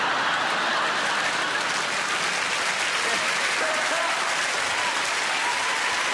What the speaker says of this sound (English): a huge round of applause for the wonderful Sheku Kana-Mason